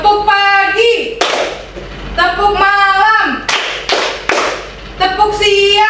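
Children in a school classroom clap short rhythmic patterns in unison, sharp bursts of claps alternating with chanted calls from a teacher and the class.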